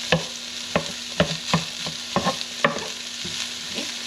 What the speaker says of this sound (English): I'm just going to mix all that back in.